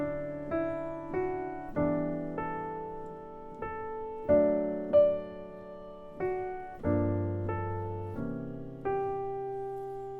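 Solo jazz piano plays the opening of the bridge of a song, a slow series of sustained chords struck one after another, each ringing and decaying, close and fairly soft with no talking.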